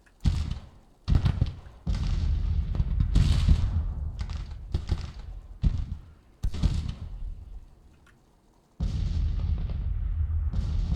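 Artillery in a Grand Tactician: The Civil War battle thumps as a series of heavy booms and rumbling bursts, irregular and muffled, with a quiet lull before the rumble returns.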